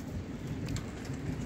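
Monsoon rain in Jammu patters steadily with a soft, dense hiss and a low rumble beneath it, fairly quiet and continuous throughout.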